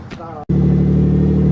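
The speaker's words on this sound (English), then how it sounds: "Cold start's a little weak" A car engine cranks briefly on a cold start, cuts out, then catches and settles into a loud, steady idle close by.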